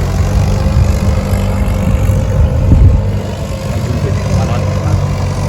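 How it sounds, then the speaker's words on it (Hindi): A tractor works a farm field, giving a low, steady engine rumble that swells slightly midway while people talk nearby. "ये ट्रैक्टर जैसे ही खेत पे चलता है"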